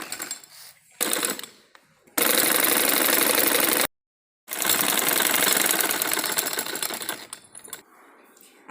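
A sewing machine stitches a pressed-down seam on a palazzo in loud, close bursts of whirring, with a brief full stop midway before the stitching resumes and fades.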